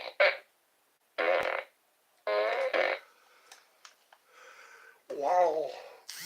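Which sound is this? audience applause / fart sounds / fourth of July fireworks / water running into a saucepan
fart sounds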